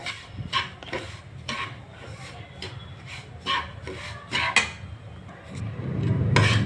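Semolina roasting in ghee in a pan, stirred with repeated scraping and rubbing strokes at an uneven rhythm, close and soft over a faint background sizzle, without any speech.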